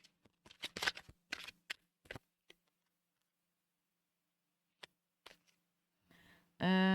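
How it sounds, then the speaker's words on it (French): Tarot cards are laid out for a love reading, giving close, crisp flicks and soft slaps in quick bursts separated by pauses, followed by a short shuffle and an abrupt loud electronic tone at the end. "je mets les cartes"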